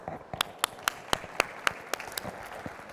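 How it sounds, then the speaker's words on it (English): A conference audience claps for the next speaker at an automotive industry panel on 3D printing, a moderate round of sparse, distinct hand claps from a smallish crowd in a hall, fairly faint and steady. "Please, a round of applause for the Senior Engineer in Additive Manufacturing"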